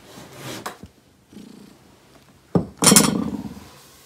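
A cat purrs softly at close range while licking leftover yogurt from a small plate, with faint wet licks and a louder burst of clinking and purring near the end.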